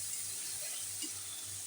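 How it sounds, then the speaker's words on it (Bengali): Spice paste of garlic and tomato with turmeric, chilli powder and salt fries in oil for a bhola fish curry, giving a soft, continuous sizzle with faint stirring scrapes at a low level. "এবার আমি কষিয়ে নেবো এটাকে ভালো করে, যতক্ষণ না তেল ছেড়ে আসছে।"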